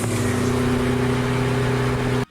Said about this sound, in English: I love the sound of the LS, and even more so, I love the sound of a turbo LS.